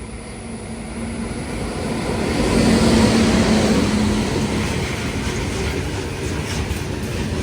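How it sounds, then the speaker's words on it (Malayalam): A train arrives at Bekal railway station in Kerala, a loud continuous rumble and rolling clatter that swells near the middle and stays steady close by, no talk. "ഇത് നമ്മളിവിടെ നിൽക്കുന്ന സമയത്ത് ഒരു ട്രെയിൻ വരുന്നുണ്ട്"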